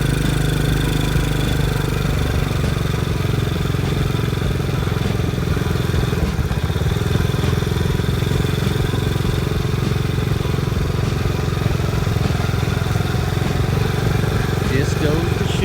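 Four-wheeler ATV engine running steadily after a new battery and a cleaned carburetor, a loud continuous mid-pitched drone close by with faint rattling, as the rider sets off, while someone talks over it.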